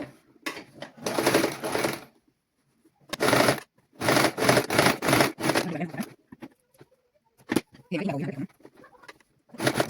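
A sewing machine stitches elastic onto children's clothing in short bursts of rapid whirring, several separate runs with brief pauses between them, close and fairly loud, with no talking.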